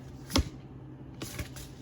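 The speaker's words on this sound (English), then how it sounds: "I'm shuffling for the second one right now." A deck of playing cards is shuffled by hand at close range: two quick riffling bursts, one short and sharp early on and a longer rustle near the end, with quiet pauses between and no speech.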